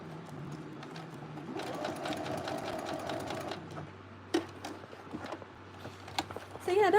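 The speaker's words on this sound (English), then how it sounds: "now I'm going to just stitch on the edges so that it doesn't come out" A sewing machine stitches along fabric edges in a brief steady run, followed by quieter handling sounds and a voice speaking near the end.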